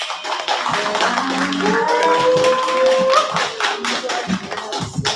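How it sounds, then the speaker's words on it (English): Open mic poetry and improv audience clapping and cheering as a performer comes up, dense applause across the whole stretch with a voice briefly calling out over it. "Clap it up!"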